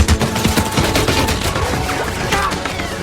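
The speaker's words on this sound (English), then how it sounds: "Then the second wave of Gatling fire struck." Rapid Gatling gun fire from a movie battle scene, a dense continuous stream of loud overlapping shots with no pause across the whole stretch.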